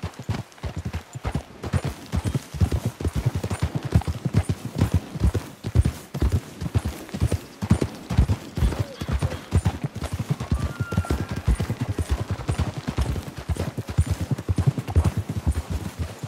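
Steady clip-clop of horse hooves trotting along in Red Dead Redemption, close and fairly loud, continuing throughout with no talking.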